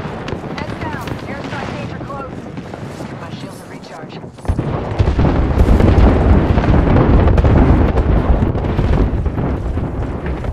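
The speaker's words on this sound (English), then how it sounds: "Thermite grenade out." A thermite grenade in Apex Legends bursts into a loud, sustained roaring blast that swells and keeps burning for several seconds after a quieter stretch of gunfire and wind-like noise, with voices speaking over the action.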